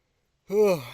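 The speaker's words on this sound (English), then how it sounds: "hold on, guys, I gotta yawn" A single drawn-out yawn begins midway after silence, a voiced, rising-then-falling breathy exhale close to the microphone.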